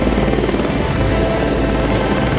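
An enemy helicopter in SOCOM: Combined Assault, its rotor and engine making a loud, constant whirring drone that fills the whole stretch without pause.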